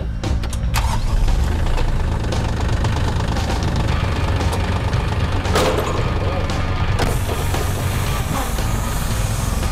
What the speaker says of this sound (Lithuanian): dar taip greitai su traktoriuku niekas iš vietos nepajudėjo